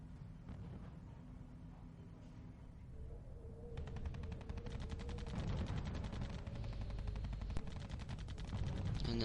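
Tiger tanks open fire in the WWII strategy game Company of Heroes: a low rumbling backdrop gives way to dense, rapid bursts of gunfire that stay loud and keep going to the end.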